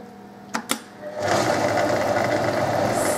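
Kitchen cooking robot starting up while cooking mashed potatoes at 100 degrees on speed 1, two quick clicks followed by a steady, close mechanical whirring hum that continues evenly to the end.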